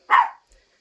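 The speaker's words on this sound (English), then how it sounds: "some people pulled up and now Piper wants to bark" A dog gives a single loud, close bark at people arriving, followed by a brief faint sound and then quiet.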